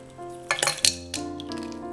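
Ice cubes tumble into lime juice in a kitchen, making a few quick clattering bursts near the start over a steady tonal background.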